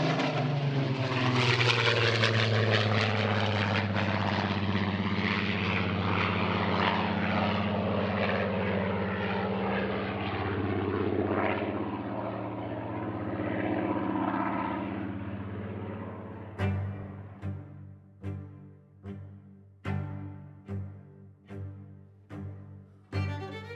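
A Spitfire fighter plane's propeller engine drones loudly in a sustained roar that shifts in pitch as the aircraft passes, then the engine coughs and pops in a series of uneven bursts near the end.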